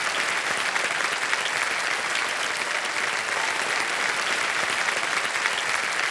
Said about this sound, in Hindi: बहुत जोरदार तालियां बजे इनके लिए।